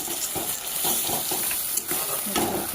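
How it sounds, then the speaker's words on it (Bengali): Fish pieces fry in a spice masala in a pan, stirred over a steady sizzling hiss with soft irregular scrapes and clinks throughout. "মাছের সঙ্গে অনেকক্ষণ ধরে কষাবো, যাতে মাছের ভেতরে মশলাটা ঢোকে আর টেস্টিটাও হয়"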